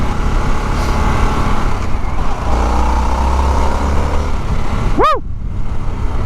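A 2021 Harley-Davidson Sportster S accelerating in sport mode on a demo ride at IMS Outdoors, with a loud steady engine roar mixed with heavy wind rush, and one brief rising chirp near the end.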